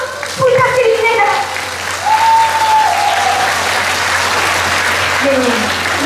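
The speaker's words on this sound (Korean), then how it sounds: "여러분 큰 박수 부탁드립니다." An audience at an outdoor festival stage show in Yanggu claps in sustained, dense applause, with a host's amplified voice speaking over it.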